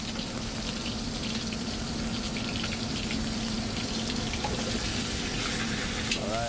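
Meat frying in hot oil in a restaurant kitchen gives a steady, dense sizzle throughout, fairly faint and continuous with no talk over it.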